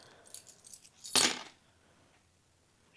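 Small metal charms, picked up for a tarot reading, clink and jangle together softly at first, then in one sharper burst of chiming metal before falling quiet.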